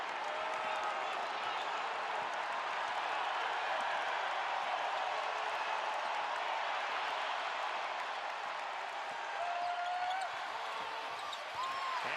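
Steady roar of a basketball arena crowd at a North Carolina versus Boston College game, continuous cheering and applause holding at an even level throughout, with faint whistles and squeaks mixed in.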